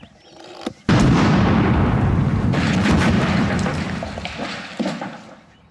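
A shed blown up by an explosive fired with a wire and electric plunger: one sudden loud boom that rolls into a long, broad rumble of debris and settling noise, slowly fading over several seconds.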